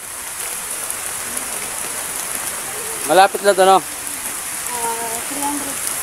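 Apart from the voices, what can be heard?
rain falling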